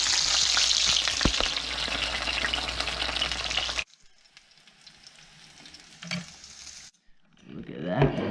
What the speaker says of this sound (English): Oil's popping, boys.